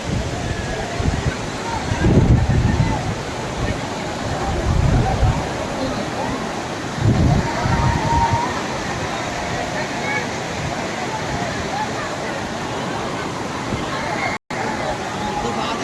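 Water flowing over a small dam at Bhushi Dam, Lonavala, roars steadily and loudly, with wind buffeting and a crowd of voices chattering throughout.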